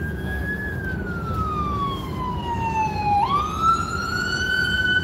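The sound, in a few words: ambulance siren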